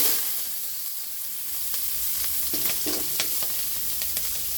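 Onions sizzle steadily in a hot pan with a constant frying hiss, broken by a few scraping stirs and small crackles, fairly close and with no talking.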